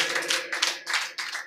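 Congregation at a Telugu church service clapping loudly in praise, a burst of fairly close clapping with uneven rhythmic surges over about a second and a half.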